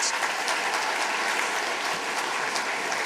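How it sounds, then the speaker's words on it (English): An audience claps together in a debating union room, producing a full, continuous wash of applause that stays loud and even throughout. "I think I'd just like everyone in the room to applaud that discussion we heard just then"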